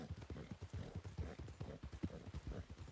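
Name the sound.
horse hooves cantering in a video game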